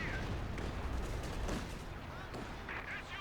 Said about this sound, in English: Panzer headquarters opening fire on the guards.